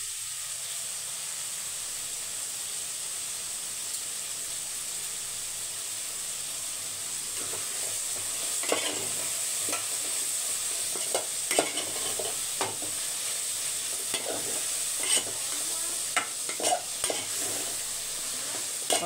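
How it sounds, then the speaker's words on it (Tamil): Chili powder and spices sizzle and fry in a pan, a steady hiss broken by repeated scraping stirs that grow busier as it cooks, with no voices. "அதையும் அப்படியே மிக்ஸ் பண்ணி விட்டுக்கிட்டே இருக்கணும்."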